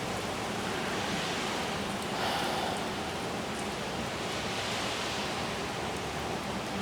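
Heavy monsoon-season rain falling steadily, a dense, even wash of sound with no breaks, moderately loud and continuous with no voices.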